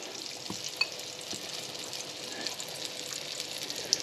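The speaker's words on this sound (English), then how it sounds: "And then I'm going to put that right into our hot pan." Floured green tomato slice frying in a hot pan, a steady moderate sizzle of oil with occasional light clicks and taps of a utensil against the pan.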